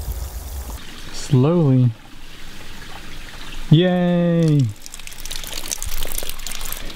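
Steady rushing water flows down a rubber-lined flume, a continuous wash running under the whole stretch while a person calls out briefly twice over it.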